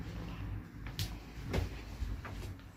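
A sliding wardrobe door rolls and bumps closed in a quiet room, a short faint run of soft knocks and rumble.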